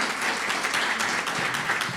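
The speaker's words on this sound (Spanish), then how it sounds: "la recibamos con un aplauso" Applause from the audience at a Christian business gathering as a woman comes to the front, a brief, steady patter of many hands clapping with no voices over it.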